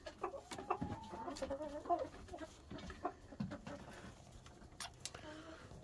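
Chickens cluck and call in a rooster pen, with several short clucks and squawks at close range, fairly faint, while a person talks quietly.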